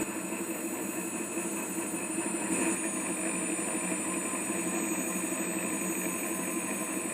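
A prototype PTO generator's engine runs as its RPM drops, giving a steady, fairly quiet mechanical drone with high whining tones and no clear change in level.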